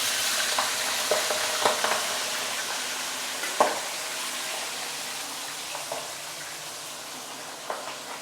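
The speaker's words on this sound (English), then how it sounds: "flip the fish." Fish fries in a pan for sweet and sour fish, a steady soft sizzle with occasional small pops and scraping touches as it is turned, close and fairly quiet without talking.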